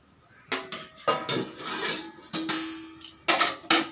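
A lid goes onto a pot of chickpea, taro and fish-head curry, giving several sharp metallic clanks and scrapes in quick irregular bursts, close and fairly loud with no talking.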